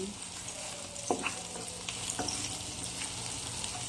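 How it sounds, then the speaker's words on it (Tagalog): Garlic frying in oil in a pan for caldereta ribs, a steady close sizzle with a couple of sharp clinks from stirring utensils partway through. "nalagay ko na ang bawang. Medyo papulahin natin"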